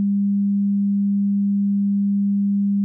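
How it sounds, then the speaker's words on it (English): A steady 200 Hz sine wave test tone played alone, a pure constant hum at even loudness throughout with clean start and stop. "let's listen to a 200 Hertz sine wave."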